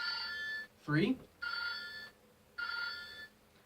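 A Magiranger Grip Phone Morpher toy gives out three electronic trilling rings like a telephone bell, with someone speaking briefly between the first two bursts.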